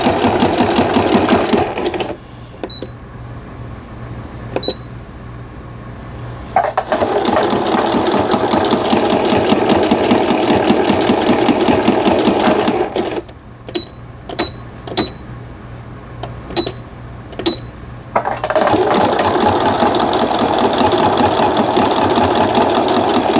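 A Riccar household sewing machine stitching fast, its steady motor whir and needle clatter running in long continuous bursts that break off into short pauses, loud and close with no talking.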